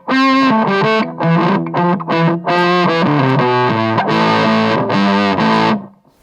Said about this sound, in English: Then we can move into the fuzz end of things.